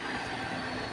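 A railway engine undergoing testing runs with a steady, loud, broadband mechanical rumble and rail noise, continuous for a moment with no voices.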